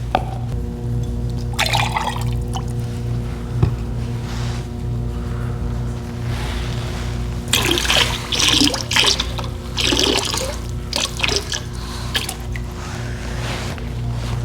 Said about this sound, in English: wiggle it around, and then dump it out